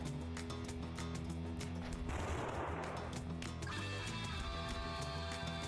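Enemy gunfire in a video game set in Arco, a dense burst of shots and crashing noise mid-clip over a constant game soundscape with music tones, no talking.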